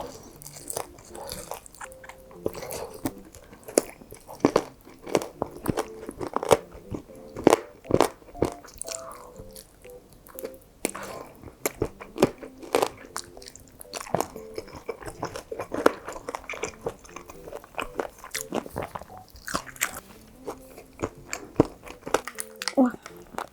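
Close, crunchy bites and moist chewing of Bburinkle fried chicken repeat in irregular bursts, with a voice talking in between during a mukbang.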